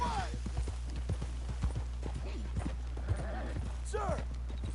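Horse hooves clip-clop in a steady walking rhythm in Red Dead Redemption 2, close and moderately loud, with a voice speaking over them and a brief whinny-like call near the end.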